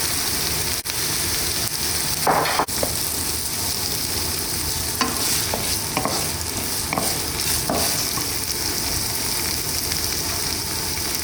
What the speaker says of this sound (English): I'm going to let it fry and cook.